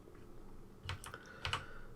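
Faulty keys on an Acorn Electron home computer keyboard, including the 3 and X, pressed lightly in two soft, close clicks about half a second apart over faint background hum.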